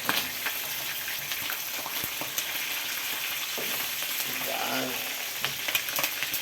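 Bagnet pork belly frying in its own rendered fat, a dense close sizzle and crackle with scattered pops running steadily throughout, a brief voice faintly audible under it.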